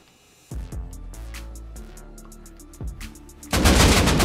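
AK rifle fire in the Rust console game: a few single shots, then a sharp burst of rapid automatic fire near the end, loud and close with no talk over it.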